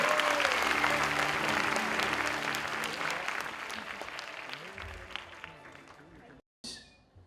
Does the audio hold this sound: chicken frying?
no